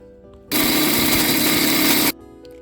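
A mixer grinder whirs loudly as it grinds roasted spices into sambar powder. It runs at a steady, dense roar for about a second and a half, then cuts off abruptly, and nobody talks over it.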